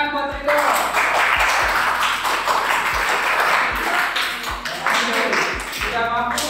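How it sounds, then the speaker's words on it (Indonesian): A classroom of Indonesian students claps during an informatics lesson on Windows, a dense patter of hands running under a teacher's speaking voice for several seconds. "Tepuk tangan buat Windows."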